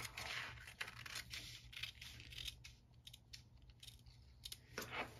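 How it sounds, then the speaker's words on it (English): Scissors snip steadily through a paper sewing pattern during a shoulder adjustment, a close, fairly faint run of crisp cuts and rustles with no one speaking. "So I'm just going to cut along this line here."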